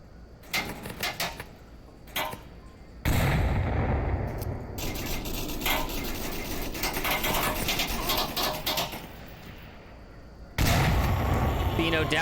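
Grenade blasts and gunfire in a competitive match of the VR shooter Onward, with loud sustained bursts of combat noise filling most of the clip and a commentator talking over it.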